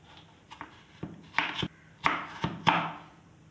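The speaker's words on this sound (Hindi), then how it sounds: "आलू को काट लूँगी।" Knife slicing potatoes into thick slices for potato chips, several sharp chops on a board in an uneven rhythm, close and clear with no talk.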